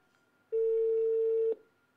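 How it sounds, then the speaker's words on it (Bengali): A phone call heard over a loudspeaker gives a single steady ringback tone lasting about a second, clear and close against a quiet background. "ফোন ঢুকছে"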